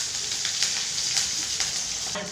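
Chopped onion dropped into a sesame-oil tempering of mustard seeds and urad dal frying with a constant bright sizzle and small crackles, moderately loud and close, with no talking.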